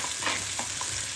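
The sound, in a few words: onion frying with cinnamon and cloves for mushroom sukka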